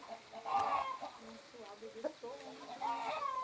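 Chickens, including a naked-neck hen, cluck softly in short bursts at moderate distance on a countryside farm, mixed with background voices and faint farmyard noise.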